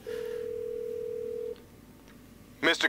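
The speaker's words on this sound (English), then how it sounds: "We have a phone, an old one actually." An old reception desk telephone in the GTA V Online casino video game, a steady electronic tone held for about a second and a half, then quiet, before a voice starts speaking at the end.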